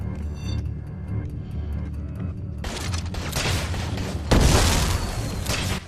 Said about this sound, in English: I thought you started shooting exploding fireworks swordfish